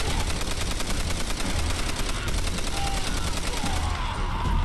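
Dense, continuous gunfire from Call of Duty: World at War, dominated by rapid automatic weapon bursts and loud shots with no letup for nearly five seconds.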